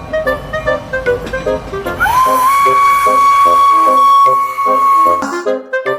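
A Thomas toy train plays its electronic tune of short beeping notes, then gives a long sustained whistle-like horn tone before the jingle resumes, loud and close.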